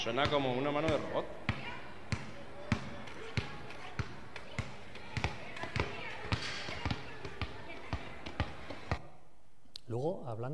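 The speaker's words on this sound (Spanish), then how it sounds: "cómo está jugando a baloncesto." A girl with a prosthetic hand plays basketball in a shopping centre, the ball bouncing in a steady run of sharp, fairly close thuds over a noisy crowd, with voices at the start and end.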